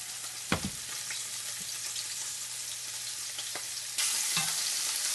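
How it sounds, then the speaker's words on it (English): A chopped medium onion with carrots sizzles in a pan while sweating for braised beef short ribs: a steady close hiss with occasional stirring clacks, growing louder and brighter near the end, no talking. "And at the same time, my full medium onion. Also chopped up. And we're going to sweat these out."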